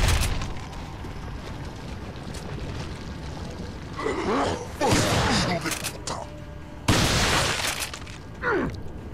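Shotgun blasts in the Resident Evil 4 video game, several loud broad bursts with echoing tails arriving irregularly over a dense game background, with a voice talking between them.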